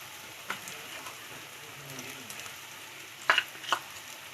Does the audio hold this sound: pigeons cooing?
no